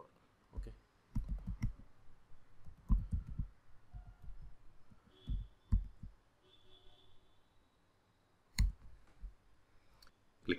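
Computer mouse clicks on a website download page during a desktop software installation, several sharp short clicks scattered unevenly and close, with faint background hum and no talk.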